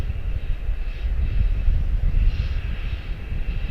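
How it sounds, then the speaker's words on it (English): Jet engines of an Embraer 145 at Charlotte-Douglas International Airport, a loud, steady low roar with a broad whine on top that swells slightly midway and stays constant, with no talking. "That's Augusta first there, which is an Embraer 145 long range"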